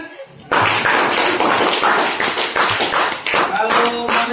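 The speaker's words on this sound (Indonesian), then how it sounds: "Tepuk tangan kan?" Students in an eighth-grade social studies class clap together, a loud burst of rhythmic group clapping that starts abruptly and carries on with voices mixed in.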